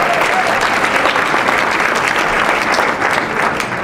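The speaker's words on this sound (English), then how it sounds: "Applaud if you believe that is true." Sustained, dense applause from a large audience at a women's leadership event, loud and steady throughout with no pauses, the clapping close and filling the room.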